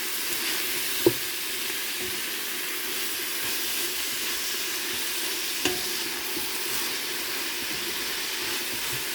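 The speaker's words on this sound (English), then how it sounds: "You have to continuously stir." Vegetables being stirred in a soup pot on the stove, a steady soft sizzle and hiss throughout with a couple of brief knocks of the spoon against the pot, no talking.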